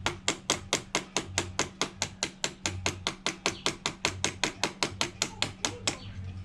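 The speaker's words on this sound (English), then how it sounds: "Got me a hammer, the flathead. You feel me? I'm just gonna hit the wrist pin up." Rapid, steady hammer blows on a piston wrist pin of a KX80 motorcycle, about five per second, sharp and close, continuing evenly for several seconds with a faint low hum beneath.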